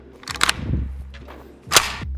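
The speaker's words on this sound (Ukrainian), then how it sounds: "Відвести затворну раму до упора назад, викидаючи патрон з патронника." Metallic clacks and rattles ring out close by as an AK-74 rifle's bolt carrier is pulled back, followed by a second sharp snap.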